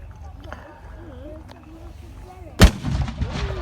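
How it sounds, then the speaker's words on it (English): A tank cannon fires at an outdoor firepower show, giving one loud, booming shot with a rumbling tail. It comes after several seconds of someone talking over distant background noise. "Another shot fired, also slightly overshooting the mark."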